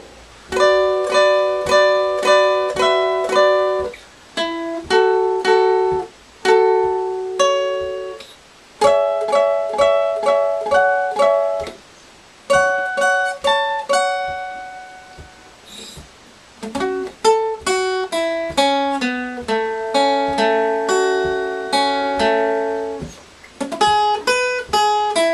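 Electric guitar lead line for a song, played slowly as a series of plucked notes and short phrases with brief gaps between them, clear and close, unaccompanied and without talk.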